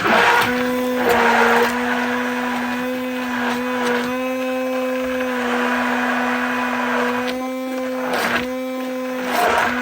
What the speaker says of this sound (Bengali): তো আমি সবগুলোকে এখন ব্লেন্ড করে নেব।